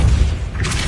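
A Depulso spell goes off in the video game Hogwarts Legacy, a single short, loud, booming thump with a brighter whoosh trailing at the end.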